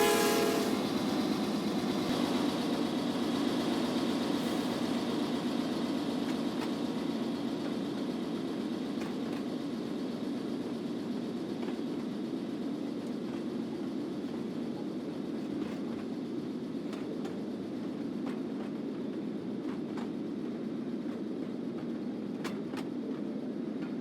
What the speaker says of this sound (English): the train thunders under the bridge at North End Blackwater